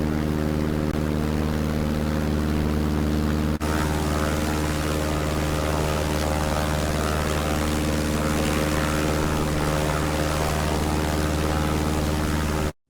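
North American Texan propeller trainer in Microsoft Flight Simulator, a steady loud droning engine and propeller hum with strong low harmonics, continuous throughout with a brief dip near the start and cutting off abruptly at the end.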